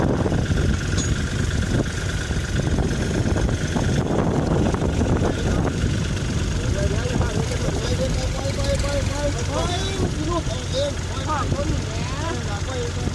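A Kubota tractor engine runs steadily during a recovery of a stuck machine with a cable, a continuous low mechanical drone beneath people talking and some wind buffeting.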